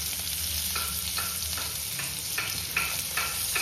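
Garlic, chili and Kashmiri chili sizzle and fry in hot oil in a pan, a continuous close hiss with soft intermittent stirring scrapes.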